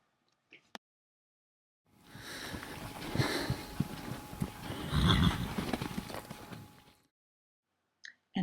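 A horse snorts and whinnies close by, a rough, breathy burst lasting several seconds with a louder swell near the end, framed by brief silence.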